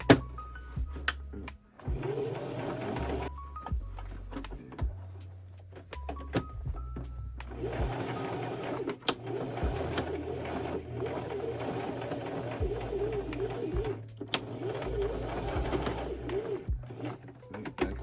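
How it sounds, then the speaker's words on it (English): A sewing machine stitches denim in several bursts of rapid, buzzing mechanical running, separated by short pauses, close up, with bird cooing in the background. "Keep your needle down, and then put up your presser foot when you want to turn your material in the exact spot that it's at."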